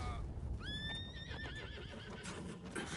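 A horse whinnies in Red Dead Redemption 2, a loud rising-then-wavering neigh lasting about two seconds over game ambience with hoof clatter.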